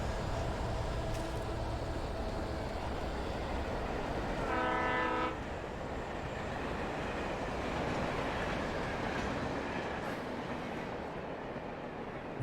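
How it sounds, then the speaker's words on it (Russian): A video-game train rumbles past with a steady rolling roar, a brief horn blast sounding midway, then the noise gradually fades. "Железная дорога проходит неподалеку."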